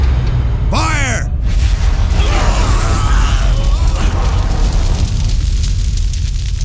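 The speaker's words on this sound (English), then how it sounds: "On my command, fire the Titan cannon." The Titan cannon fires in the Warhammer 40,000: Dawn of War video game, a sweeping charged blast followed by a long roaring, crackling rumble that fills the whole stretch loudly.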